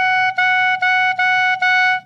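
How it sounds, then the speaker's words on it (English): A beginner's first tones on a clarinet mouthpiece and reed, a bright, buzzy, reedy squawk sounded in five short repeated blasts of the same pitch, close and fairly loud with brief gaps between them. "the first few sounds you make on the clarinet might sound like this"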